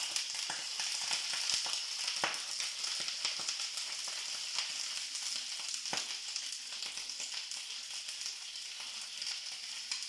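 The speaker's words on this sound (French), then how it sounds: "une fois que la graisse est chaude, hop, vous tapez les produits dedans" Crayfish and other ingredients tipped into hot fat sizzle and fry in a loud, steady hiss with dense crackling, heard up close and alone with no voices, broken by a few sharp pops.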